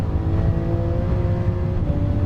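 Race car engine in a racing video game holding a loud, steady high-rev drone with a whirring tone, constant throughout and close, with no voices over it.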